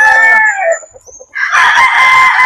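Roosters crow and hens cluck at a poultry farm, with a loud crow at the start, a brief quieter stretch of soft clucks, then dense overlapping crowing and clucking from many birds close by.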